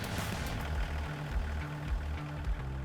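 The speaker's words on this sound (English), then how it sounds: "Stop the engine and exit the compact tractor." A compact tractor engine runs steadily at idle, a low continuous rumble with a faint knocking pulse, close and alone.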